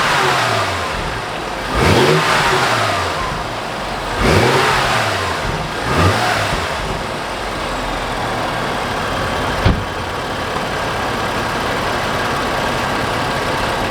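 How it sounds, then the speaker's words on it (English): A BMW F30 335i with an N55 turbo engine and CTS turbo intake idles, then is revved three times in quick blips, each rise and fall distinct, followed by a settled idle and a single sharp click. "I'm just quickly going to give it a few revs to see how it sounds like"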